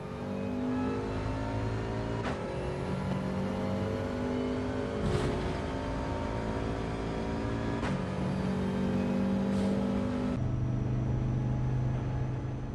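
A racing car engine in Gran Turismo 7 accelerates out of a corner, its loud steady roar climbing in pitch and dropping back at each of several quick gear shifts.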